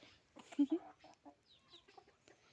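A rooster gives a few short, throaty clucks and croaks at close range in an otherwise quiet setting, with faint higher chirps around them.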